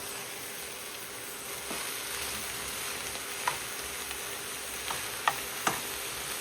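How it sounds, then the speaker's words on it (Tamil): Soya meat being stirred into a curry in a pan, a quiet continuous sizzle and fry with a few light spoon taps against the pan, heard alone. "இப்போ இதையும் நல்ல வடிவாக மிக்ஸ் பண்ணி விடுவோம்."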